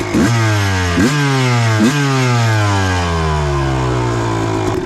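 A two-stroke motorcycle engine fitted with a Lectron Pro carburetor blips its throttle three times in quick succession, each rev rising sharply then falling back to a crisp, buzzing idle, loud and close without speech.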